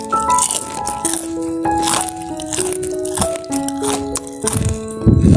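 Close, crisp crunching and crackling of fried tempe kremes being bitten or broken, in repeated bursts over steady background music.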